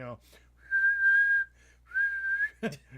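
A person whistles through their lips, imitating the Elnor whistle from Star Trek: Picard, with two sustained clear tones separated by a brief pause, close and loud with short breathy sounds before and after.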